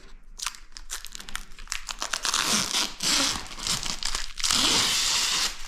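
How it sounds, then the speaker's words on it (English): Plastic wrap is pulled and peeled off a Samsung S811D soundbar, with close, loud crinkling and tearing bursts that grow denser and longer toward the end. "We're going to, of course, unwrap this plastic here."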